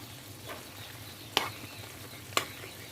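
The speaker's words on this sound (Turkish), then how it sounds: "İçinin soğanını asıl lezzet veren de böyle ocakta kavuruyorum" Steady sizzling of onions frying in a pan on the stove, with two sharp clinks or scrapes of a utensil breaking through the hiss.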